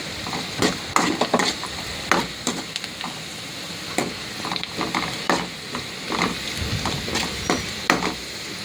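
Onions fry in a pan for pasta with a continuous close sizzle, broken by frequent sharp clinks and scrapes of a utensil stirring against the metal.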